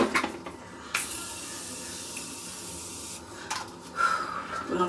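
Close, continuous hiss of a setting spray misted toward the face during a makeup routine, starting with a burst near the one-second mark and running for a couple of seconds before tapering off.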